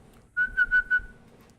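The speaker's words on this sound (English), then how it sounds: "I'm trying to learn how to whistle." Ellie from The Last of Us whistles alone in a short run of four sustained, tuneful notes, fairly close and clear, with a quiet room tone and no talk over it.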